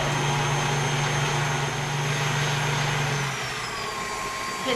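An electric mixer whirs at relatively high speed, beating eggs until frothy for a buttermilk pie; a steady motor drone runs loud and close, then its low hum drops away near the end.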